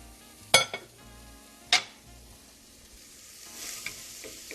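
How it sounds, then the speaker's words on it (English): Stew meat for a Persian celery stew added to a hot pot on medium-high heat, sizzling and frying while two sharp clanks of a utensil against the pot ring out. "This is our stew meat going in."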